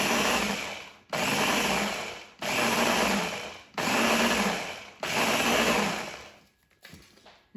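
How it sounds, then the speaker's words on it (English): A powerful food processor pulses finely ground dry macaron ingredients in five loud whirring bursts of about a second each, separated by brief pauses, with a softer spin-down at the end and no voices. "This is a pretty powerful food processor, so it doesn't take too long."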